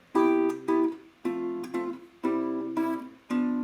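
Opening four bars of Twinkle Twinkle Little Star played with the original chords, a series of sustained chord strikes in a slow, even rhythm, clear and close with no voices.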